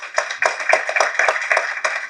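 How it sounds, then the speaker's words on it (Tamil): Audience at a celebratory get-together clapping to welcome guests, a dense burst of hand claps with irregular sharper claps standing out, close and fairly loud with no talk. "நம்ம அனைவரும் சேர்ந்து கைத்தட்டி"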